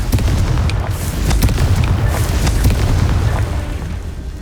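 Explosive Confringo spell blasts in Hogwarts Legacy, a loud, dense run of booming fiery bursts with sharp pops layered over a rumbling low roar for the whole stretch.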